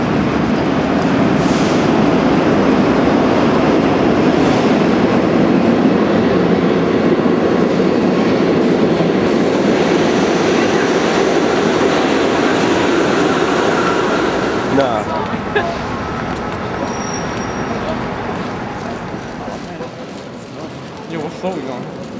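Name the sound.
subway train arriving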